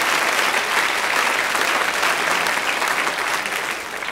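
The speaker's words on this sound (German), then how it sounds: "Danke vielmals für diesen Applaus." Audience applause at a cabaret show, a loud, dense, continuous roar of clapping from a large crowd that holds steady and fades slightly at the close.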